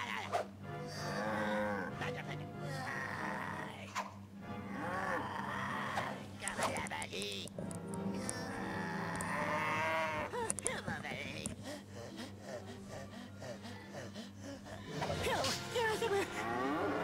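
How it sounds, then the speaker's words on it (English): A cow moos in the Crash Tag Team Racing video game, sounding alongside game music and effects while players talk and react over it throughout. "What's this diorama? Oh, a cow."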